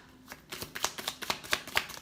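A deck of tarot cards is shuffled close by, producing a quick series of crisp riffling clicks and slaps at a steady rhythm, with no voices.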